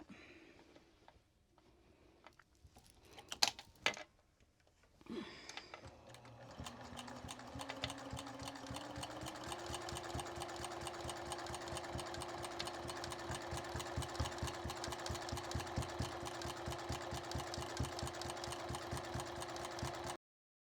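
Domestic sewing machine stitching a slightly wavy straight-line quilting pass through a quilt, starting after a few handling clicks and then running steadily and fairly loudly, its rapid needle chatter continuous for about fifteen seconds with no talk.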